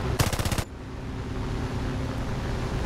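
A short, rapid burst of aircraft machine-gun fire from War Thunder, loud and close, lasting about half a second before fading into steady engine drone and wind noise.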